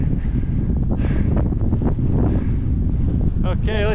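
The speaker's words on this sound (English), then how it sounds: "It's breezy." Strong mountain wind in the Pyrenees roars steadily across an outdoor microphone with a dense, buffeting rush. A faint voice comes through briefly near the end.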